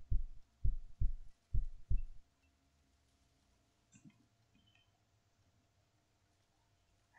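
Heartbeat sound effect: a close, deep double thump repeating in a steady rhythm about four times, then fading into near silence with a faint distant knock.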